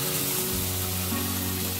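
Beef seekh kebabs fry in a pan with a steady, close sizzle and a low hum running underneath, with no voices.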